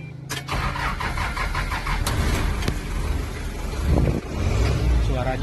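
A 1986 Toyota BJ40 Hardtop diesel engine cranking and catching, then settling into a rough, clattering idle nearby with a voice briefly audible.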